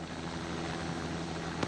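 Helicopter rotor and engine drone loud and steady from close by, a continuous throbbing hum with no break, recorded aboard during the 2001-02 Volvo Ocean Race.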